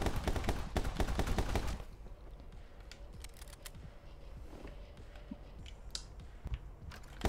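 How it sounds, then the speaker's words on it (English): Video game gunfire: a dense burst of rapid shots fills the first two seconds, then scattered single sharp cracks and clicks sound over quieter background noise. "Oh, time to go shoot him."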